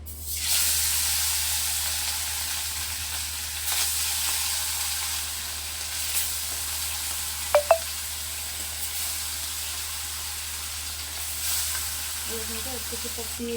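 Marinated fish sizzles steadily in hot oil, a continuous frying hiss with a couple of brief clinks from a utensil.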